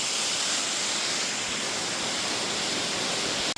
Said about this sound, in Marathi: वाव किती भारी धबधबा.